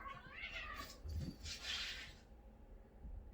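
Cats meowing and caterwauling up close, a drawn-out wail rising and falling over a couple of seconds, then fading into quiet room tone.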